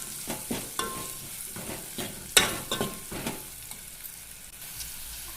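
Turmeric is stirred into softened onions frying in a pan: repeated spatula scrapes and knocks sound over a continuous soft sizzle, with one sharper clatter midway.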